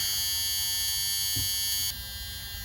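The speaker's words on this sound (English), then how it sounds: "Sorry for the buzzer, I have to have the ignition on" Steady ignition-on warning buzzer from the dash of a Tiffin RV motorhome, a continuous electronic tone that stays constant throughout, dropping slightly in level near the end, with no talking.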